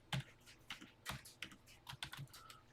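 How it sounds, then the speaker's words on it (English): Keys on a TI-99/4A home computer keyboard clack in short irregular bursts as a type-in program is entered, faint and close, with brief pauses between keystrokes. "I'm going to type it exactly as written for posterity"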